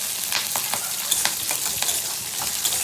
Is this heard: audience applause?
no